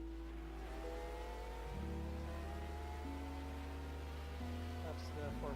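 Race car engines in a 2000 24 Hours of Le Mans video game, a loud steady engine drone that shifts pitch as another car closes in and passes, with rising harmonic sweeps throughout.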